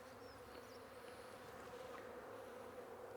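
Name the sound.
honey bees buzzing on a brood frame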